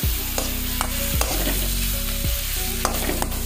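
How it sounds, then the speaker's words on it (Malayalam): Drumstick (moringa) leaves fry in oil with popped mustard seeds, giving a loud, steady, close-up sizzle broken by repeated stirring scrapes. No voices are heard. "ഇനി ഇതിലേക്ക് നമ്മൾ നമ്മുടെ മുരിങ്ങയില ചേർത്ത് കൊടുക്കുകയാണ്."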